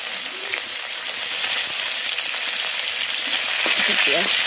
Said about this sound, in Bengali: সব ফোড়ন ভালো করে ভেজে নিয়ে ভালো করে ভাজতে হবে